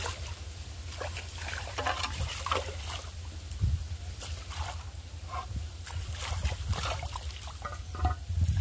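Cut hilsa fish being rinsed by hand in an open pond, steady splashing and trickling water with intermittent sloshes and drips, close by and continuous, no voices.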